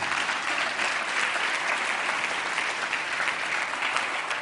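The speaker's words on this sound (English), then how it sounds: "So let's give Brian Neale another round of applause" A crowd claps continuously, a bright even wash of applause that holds steady throughout without talk.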